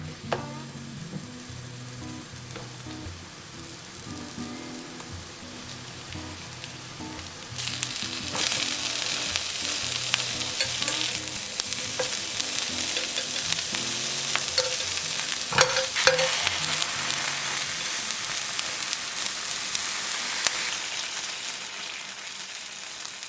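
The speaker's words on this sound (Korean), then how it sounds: "올리브유는 충분히, 잘라놓은 가지는 모두 앞뒤로 노릇하게 지져낸다" Eggplant slices sizzle and spit in plenty of olive oil in a pan over medium-low heat, with a steady hiss that grows louder partway through and runs on, broken by occasional stirring and scraping.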